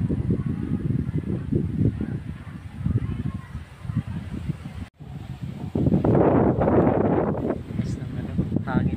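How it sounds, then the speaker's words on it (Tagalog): Strong gusty wind from Typhoon Lando buffets the microphone outdoors, rumbling and roaring, with a louder surge in the second half and a brief dropout midway, while someone talks throughout. "Lakas ng hangin guys."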